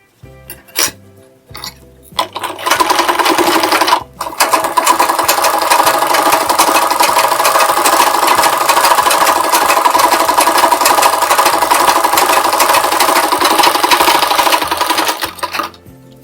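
A sewing machine stitches a blouse sleeve after a few short clicks and a brief start, then runs in one long, loud, continuous rattling whir for about twelve seconds before stopping.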